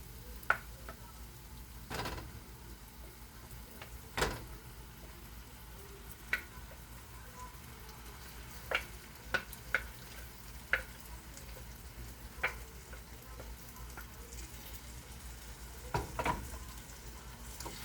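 Ground meat frying in a pan as filling for a whole wheat meat pie, a steady soft sizzle broken by occasional scrapes and clicks of a spoon stirring, close but fairly quiet, with no talking.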